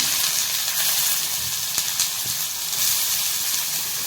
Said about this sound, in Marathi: तेल तापलेलंच आहे, भेंडी फ्राय करून घेतला, त्यात चिमूटभर जिरं, चिमूटभर राई आणि आता आपण हे आपला कांदा